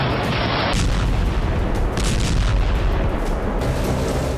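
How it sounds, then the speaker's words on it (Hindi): Heavy bombardment in Gaza, a dense, continuous roar of blasts and rumbling booms that stays loud and unbroken throughout, with no voices. "गाजा में जबरदस्त बमबारी हो रही है।"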